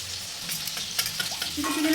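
Chicken pieces for restaurant-style chili chicken frying in oil in a home kitchen: a loud, close, continuous sizzle with stirring scrapes over two seconds.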